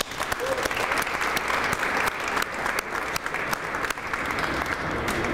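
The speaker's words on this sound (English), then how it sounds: "Please join me in also giving them a round of applause." An audience at an arts award ceremony claps in sustained, even applause, a dense crowd of hands that stays loud throughout with slight swells and no voices on top.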